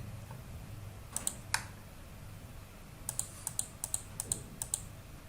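Mouse clicks and keyboard typing on a computer, heard as sharp, light clicks: a pair of clicks, a pause, then a quicker irregular run of taps, all close and moderately quiet over a low hum.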